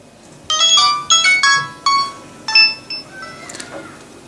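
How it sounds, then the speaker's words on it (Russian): A teXet TM 3000 mobile phone plays its startup melody, a short bright chiming tune of several quick notes, loud and close, fading out at the end. "Включаем телефон."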